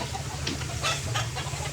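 A hen clucks softly a few times against a steady low background hum.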